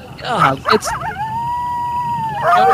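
A group at Newport Coast Elementary imitates a coyote howl as a school cheer: brief shouts, then a long rising-and-sustained howl-like voice with mixed crowd voices underneath and a noisy return at the end.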